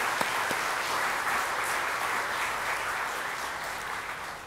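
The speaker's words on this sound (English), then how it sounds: "let's give these guys a round of applause for their hard work" A church congregation applauding graduating students at a Sunday service, sustained dense clapping from many hands that holds steady for several seconds before easing slightly at the end.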